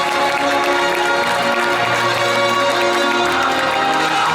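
A crowd at a cycling race podium ceremony applauds and cheers in a continuous, dense roar of clapping, heard from within the gathering and steady for several seconds.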